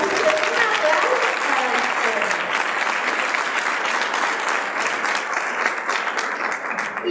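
An audience at an academic conference breaks into sustained applause, with dense, steady clapping that fills the room for several seconds.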